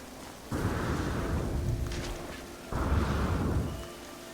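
Rain and storm gusts on a paradise planet in No Man's Sky, two broad roaring surges of noise, each swelling for about a second and a half, with no talk.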